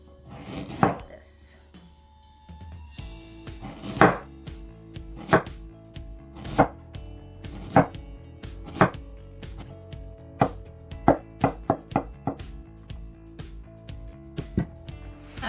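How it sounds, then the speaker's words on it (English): A knife slices radish on a cutting board for kimchi, sharp distinct chops landing every second or so and quickening into a brief burst, close and clear with no speech. "So now let's start chopping."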